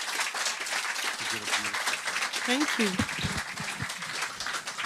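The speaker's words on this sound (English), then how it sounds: "Let's give her another big round of applause" An audience at an author talk applauds the author, a sustained patter of many hands clapping at moderate distance while a voice speaks briefly over it.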